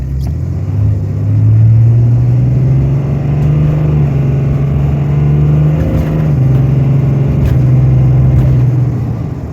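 A Ram 3500 pickup truck accelerates hard on a slippery road, its deep engine rumbling loud and close, rising in a long sustained pull, easing briefly, then pulling on again.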